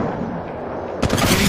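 Gunfire bursts suddenly from low ambient hum into loud, rapid shots in the mobile battle royale game Apex Legends Mobile, close and sustained to the end.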